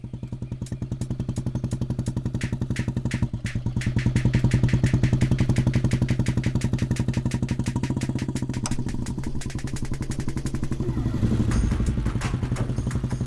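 A single-cylinder Royal Enfield Bullet motorcycle engine thumps steadily and close by, its rapid rhythmic beat swelling as it revs and rides along.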